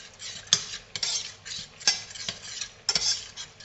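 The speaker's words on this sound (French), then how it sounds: "Je mélange" A spoon stirs milk into asparagus risotto in a pot, several sharp clinks and scrapes against the metal at irregular intervals, close and distinct over a faint soft hiss.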